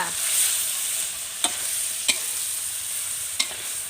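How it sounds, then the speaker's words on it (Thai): Duck curry with red chili and kaffir lime leaves stir-fries in a pan, a continuous close sizzle broken by three sharp scrapes of a utensil against the pan, with no voices. "เราใส่พริกชี้ฟ้ากับใบมะกรูดแล้ว เราก็ผัดให้เข้ากันนะคะ"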